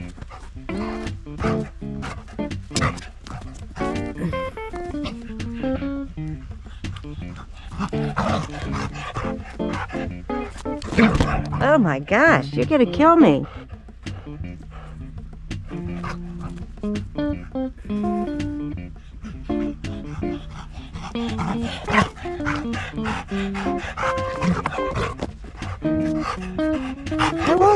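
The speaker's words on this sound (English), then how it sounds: "Who is this dog?" A dog playing fetch yips and barks excitedly in repeated bursts close by, with someone talking to it throughout over the busy, playful commotion.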